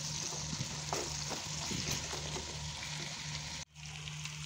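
Spiced eggplant and potato pieces fry over a medium flame in a pan, giving a steady close sizzle with occasional stirring scrapes, which cuts off abruptly near the end.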